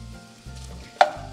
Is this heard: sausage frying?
yes